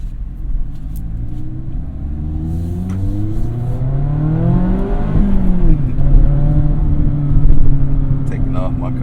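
A Mazda Miata ND3 sports car engine, on a car with 2,400 miles, accelerates hard through the gears, its pitch climbing in repeated sweeps, loud and close from inside the car.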